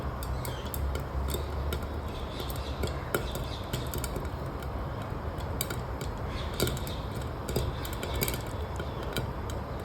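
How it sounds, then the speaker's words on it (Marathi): Jowar (sorghum) grains popping in a covered pan: a steady run of small sharp ticks and pops over a continuous rustling hiss, close and even in level throughout, with no talking. "बघा ज्वारीचे पॉपकॉर्न व्हायला सुरुवात झालेली आहे"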